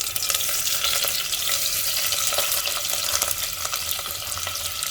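Steady crackling sizzle of sliced onions frying in hot oil in a pressure cooker, continuous and close, with occasional light stirring and no voices.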